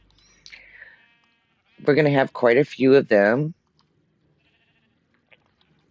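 Sheep in the video game Minecraft bleat four times in close succession, loud and wavering, after a short stretch of quiet talk.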